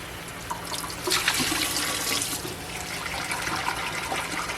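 Bleach water sloshes and splashes as it is shaken inside a sealed plastic hummingbird feeder, a continuous watery rattle that swells in the middle and stays close.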